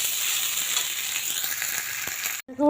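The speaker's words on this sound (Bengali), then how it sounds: "ভালো করে ভেজে নিই।" Rice frying in a pan, a close continuous sizzling hiss with faint stirring, cut off abruptly near the end by a short tonal sound.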